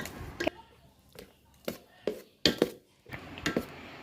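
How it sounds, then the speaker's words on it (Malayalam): Nuts stirred into carrot cake batter in a bowl, a series of irregular spoon knocks and scrapes against the bowl, close and fairly quiet. "ഇനി നമ്മൾ നട്ട്സൊക്കെ ഇതിനകത്തിട്ടിട്ട് നല്ല പോലെ നമുക്ക് ഇളക്കാം"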